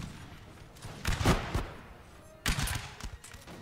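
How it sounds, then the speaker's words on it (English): Enemy cannon fire in the Napoleon Total War video game: two heavy booming volleys roughly a second apart, each a dense burst of blasts rolling into rumble, with no talk over them. "the cavalry has now been hit by the enemy cannons"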